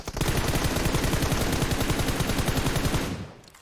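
Sustained automatic gunfire from PUBG Mobile, a rapid, evenly spaced burst of shots lasting about three seconds, loud and close, then cutting off abruptly.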